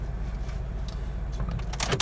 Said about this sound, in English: Lock up my car.